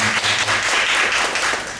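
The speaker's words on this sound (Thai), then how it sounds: "ขอเสียงปรบมือดังๆให้กับคุณอาพร" Audience applause at a corporate VIP event, a dense steady wash of many hands clapping that fills the whole moment at full strength and tapers slightly at the end.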